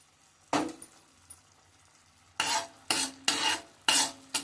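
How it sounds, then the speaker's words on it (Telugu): Tamarind pulp with turmeric and oil cooks in a pan while a spoon stirs it, making one scrape, then four loud, close, rhythmic scraping strokes with a soft sizzle between them. "ఇంకొక నిమిషం పాటు ఉడికిద్దాము, కొంచెం చిక్కబడే వరకు."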